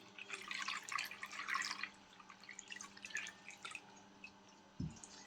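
Poria and herbal ingredients being rinsed under a tap, soft running and dripping water nearby with light splashes, quiet throughout and ending in a small knock.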